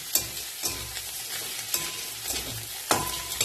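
Spatula stirring fried egg pieces through rice in a frying pan, with repeated scraping strokes against the pan over a steady low sizzle and no talking.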